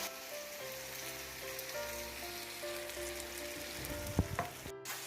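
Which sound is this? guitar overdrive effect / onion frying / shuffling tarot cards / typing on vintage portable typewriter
onion frying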